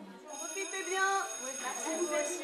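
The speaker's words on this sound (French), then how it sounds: "La sonnerie annonce les vacances de la Toussaint et pour Alexis, Violette, Clara et les autre" A school bell rings to announce the Toussaint holidays at a lycée, a sustained electric tone running under the noise of a crowd of voices at moderate distance.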